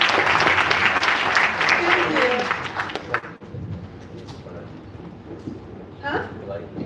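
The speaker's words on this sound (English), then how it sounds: "ask you a round of applause to Mr." A round of audience applause for a guest in a classroom-style session, loud dense clapping that fades after a few seconds, giving way to scattered voices and movement.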